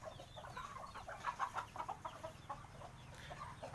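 Chickens and a rooster clucking in a rice-field farm setting at morning, with a cluster of overlapping clucks and calls over steady rural background noise, moderately near and with no speech.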